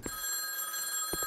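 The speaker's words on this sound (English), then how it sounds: "Phone ringing." A telephone rings in the horror game M.Stain, a quiet, steady electronic ring with short pulses at the start and end, heard alone.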